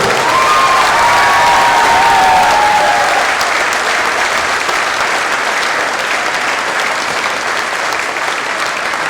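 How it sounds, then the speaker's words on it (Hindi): Loud, sustained applause from a large audience at a Hindi patriotic poetry recital, filling the whole stretch as a dense, steady roar of clapping with a faint cheer early on. "तो एक बार आप जोश की तालियां सुनवा दीजिए।"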